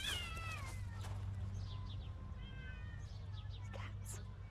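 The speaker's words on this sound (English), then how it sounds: "These cats, they are so weird when they're fighting." Several cats fighting outdoors, with drawn-out yowls and wavering caterwauls rising and falling near the listener, some overlapping, over a steady low background hum during garden pruning.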